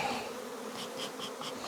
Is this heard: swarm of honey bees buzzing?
yes